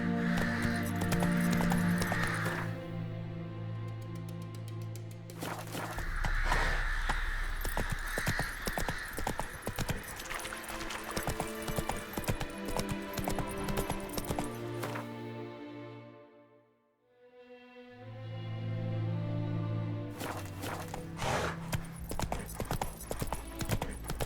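Roach, Geralt's horse in the video game The Witcher III, trots with rhythmic clip-clop hoofbeats over a swelling musical score that briefly drops out near the end before returning.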